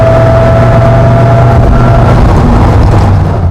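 A Dodge Viper engine accelerates in a loud, deep, steady drone heard from inside the car.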